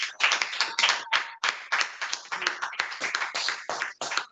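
A church congregation claps in acclaim during worship, with dense, uneven rapid hand claps from many people close by.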